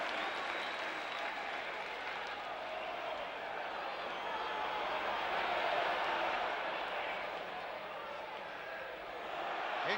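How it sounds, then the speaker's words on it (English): Football crowd at a West Ham match applauding, a broad steady wash of clapping and crowd noise filling the stadium, swelling slightly midway, with a commentator's voice faintly beneath. "Crowd enjoying him winning that one."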